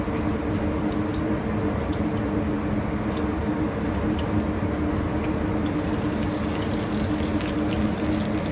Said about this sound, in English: then I'm going to flip it and fry the other side.